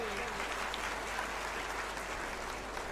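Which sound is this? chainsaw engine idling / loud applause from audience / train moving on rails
loud applause from audience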